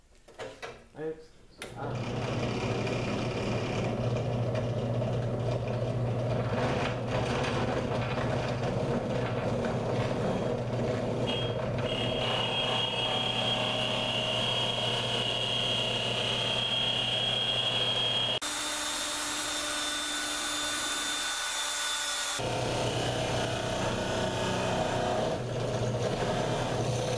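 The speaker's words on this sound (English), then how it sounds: "You just bring it to the drill press right here and we'll set it down." A drill press bores a 1.5 inch diameter hole through wood while building a birdhouse, giving a steady loud motor whine and grinding hum that runs nearly the whole time, with a brief shift in tone partway.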